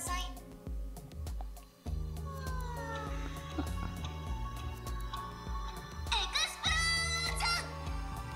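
Alarm tone from an anime waifu companion app, playing as dense layered musical notes with a bright rising flourish near the end, alongside a cat-like meowing voice; loud and steady throughout.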